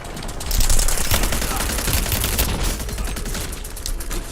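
Rapid overlapping gunfire from a video game firefight, a dense continuous barrage of shots with sniper fire in the mix, loud and steady throughout with no talk.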